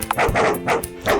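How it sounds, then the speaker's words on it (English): A dog barks in a short, close burst of a few quick yips indoors, loud and alone with no talking. "I'm actually dog sitting now, so if you hear something moving around or barking"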